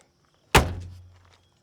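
A single solid thud as a Westin EXP truck bed cap door, fitted with gas pistons, shuts firmly, with a short low resonance fading out afterward in a quiet space.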